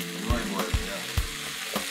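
Pasta boiling in a pot gives a continuous bubbling, rolling hiss, with a few soft thuds at intervals and no voices.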